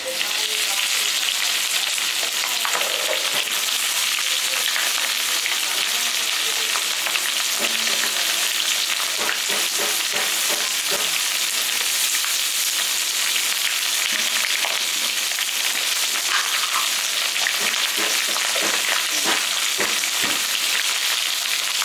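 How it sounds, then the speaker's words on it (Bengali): Potatoes and freshly added onions frying in hot oil and mutton fat, a continuous close sizzle broken by repeated scraping stirs of a utensil against the pan, with no talking. "ভাজা হয়ে গেছে লাল করে আমি দিয়ে দিচ্ছি পেঁয়াজ"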